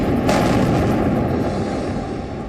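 A heavy, rumbling explosion booms at close range in Gaza's Jabalia refugee camp, followed by a dense, roaring wash of low noise that slowly settles.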